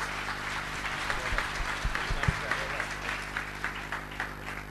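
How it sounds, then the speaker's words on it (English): Audience at a literary festival panel applauds, a dense wash of clapping at moderate level with a faint voice beneath it. "please give a round of applause to the panel"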